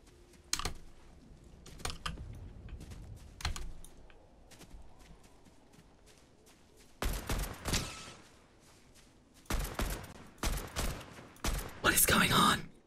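AK-47 gunfire in Fortnite, sharp bursts of rapid shots in clusters over a constant clatter of keyboard typing, loud and close.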